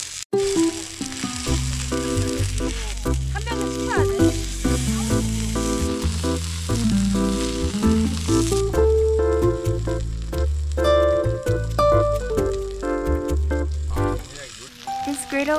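Ribeye, pork shoulder, marinated beef intestine and eel sizzle steadily on a Korean barbecue griddle at a lakeside campground, a continuous loud frying hiss under music and background talk.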